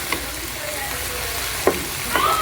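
Vegetables for a lasagna sauce sauté in a pan with a steady, close hiss of frying, and a few spoon scrapes and taps stand out above the sizzle.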